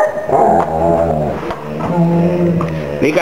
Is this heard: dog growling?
yes